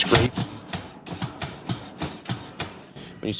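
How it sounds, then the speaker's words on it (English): A nylon-bristle brush scraping a grill grate, rhythmic back-and-forth rasping strokes, about a dozen close and loud passes. "scraping all the old gunk off"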